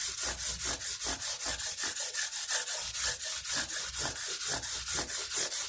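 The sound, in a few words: sanding and polishing mandolin frets with 180 abrasive pad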